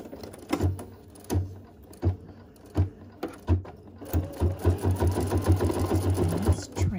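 An embroidery machine stitches a sanitizer bottle holder in the hoop, starting with spaced mechanical thumps and then running in a steady rapid chatter of needle strokes, close and loud.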